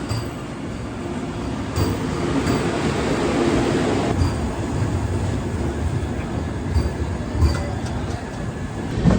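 The Ranakpur Express passenger train rumbles steadily through Gujarat, with a deep continuous roar of wheels on rails and occasional metallic clanks, loud and close throughout.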